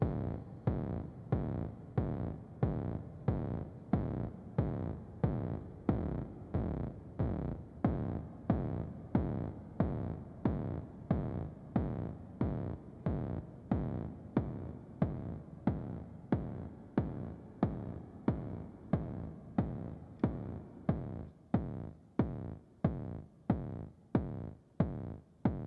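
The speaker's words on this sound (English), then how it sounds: "We're actually going to hit C0, and we get our kick drum." Synthesized kick drum from a Make Noise 0-Coast with added filter punch, repeating in a steady, even pulse of roughly forty deep thumps with sharp decays. It plays alone and prominent throughout, with no voices.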